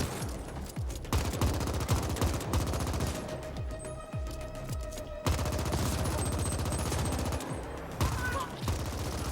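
Rapid automatic gunfire from the video game The Ascent rattles almost continuously in dense bursts, loud and close, with game effects layered underneath.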